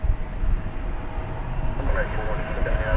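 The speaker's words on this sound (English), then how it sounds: "Couple of long and heavy takeoffs." Heavy jet airliner taking off at DFW Airport at night, a steady broadband engine roar rising slightly toward the end, heard from a distance with faint talk underneath.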